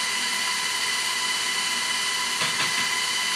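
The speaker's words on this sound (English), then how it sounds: "So now we've got our butter, our sugar, and our eggs creaming." A steady, high whirring hum from an electric mixer creaming butter, sugar and eggs for Irish car bomb cupcakes. The drone is constant and close, with a faint scraping bump near the end and no voices.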